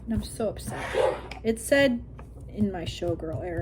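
Small dogs yip and whimper indoors in short bursts, mixed in with someone talking over them in a room.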